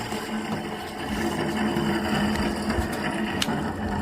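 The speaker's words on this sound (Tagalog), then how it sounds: "Ayan, pinanda na natin yung compressor." A noisy air conditioner compressor runs during a repair, a steady mechanical hum and rattle with a low tonal drone that grows a little louder after the first second, with faint clicks and no speech.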